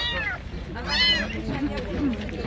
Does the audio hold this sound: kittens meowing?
yes